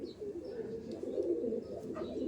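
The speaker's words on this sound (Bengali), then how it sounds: "এগুলো তো আন্ধ্রা চেন্নাই মিক্স পায়রা" Andhra and Chennai mix pigeons coo in a soft, continuous low murmur, fairly faint and steady throughout with no voices.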